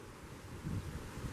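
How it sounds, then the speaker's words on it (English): Strong wind buffets the microphone in a steady low rumble, swelling louder partway through, with no voices. "It's really, really windy, so I don't know if you can hear me."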